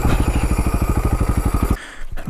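An enduro motorbike putters along a ridged trail close to the microphone, its engine a fast, steady, loud thumping pulse that cuts out abruptly near the end, leaving a few faint knocks.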